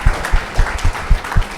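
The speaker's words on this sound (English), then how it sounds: "Don't be afraid to clap." A small podcast panel audience gives a few scattered, loose claps, distinct close hand strikes in an uneven rhythm with gaps between them.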